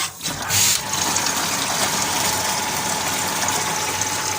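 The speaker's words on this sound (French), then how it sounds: "Ce qui tourne à l'heure actuelle, c'est le groupe hydrophore qui vient de se ramorcer. Donc on remplit le seau." A water pressure pump unit that has just re-primed runs with a steady mechanical hum while water gushes into a bucket, loud and continuous after a brief splashing start.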